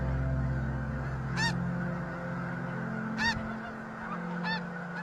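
Migrating geese flying in V formation, three separate honking calls spaced a couple of seconds apart over a steady low rumble of wind or engine noise.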